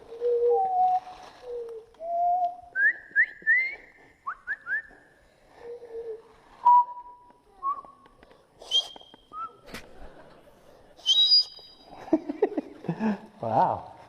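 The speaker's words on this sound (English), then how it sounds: "And then they try to teach me how to whistle." People whistle a run of short, clear notes at shifting pitches, some rising and some held, with pauses between the phrases. Faint voices join near the end.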